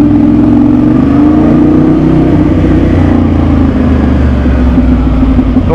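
Nearby Ducati Monster 696 motorcycle with open exhaust, its engine note rising briefly in a short rev before settling into a loud, steady drone; no voices.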